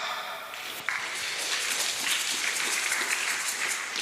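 A church congregation applauding during a Sunday service, a steady wash of clapping that starts abruptly and fills the space, continuing without pause.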